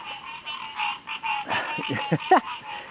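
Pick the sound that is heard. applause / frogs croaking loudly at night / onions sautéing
frogs croaking loudly at night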